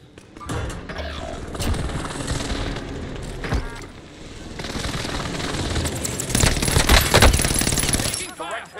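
In Call of Duty: Warzone Resurgence, an airstrike pounds a target with loud, dense bursts of gunfire-like crackle and booming impacts, building to a heavier barrage toward the end.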